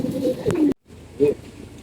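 Pigeons cooing in a coop during early spring pairing, a couple of low, soft coo phrases close by, briefly broken by a gap of silence.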